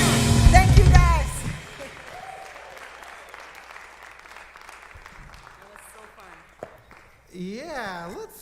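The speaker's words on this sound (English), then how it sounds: "let's just clap one more time for Johanna Jones and team" An audience at a summit breaks into a dense round of applause that fades over several seconds, and people talk before and after it.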